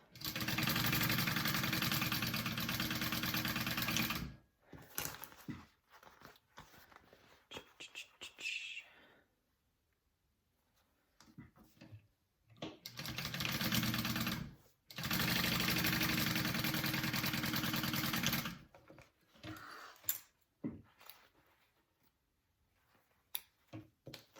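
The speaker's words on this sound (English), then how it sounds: "just stitch those top and bottom both." A sewing machine stitching the top and bottom seams of a backpack, running in loud sustained bursts with quiet pauses between them, while a voice speaks softly in the gaps.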